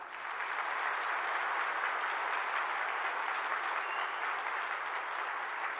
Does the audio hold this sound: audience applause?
yes